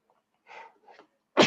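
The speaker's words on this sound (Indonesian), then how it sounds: "sorry, saya bersin" A single sneeze during a lecture on beam deflection: two soft breathy intakes, then one sharp, loud burst at the very end.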